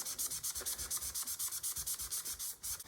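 An abrasive sponge scrubs the frame of a Cybex Balios stroller in quick, regular back-and-forth strokes, a close, soft rasping rub repeating about eight times a second with no voices.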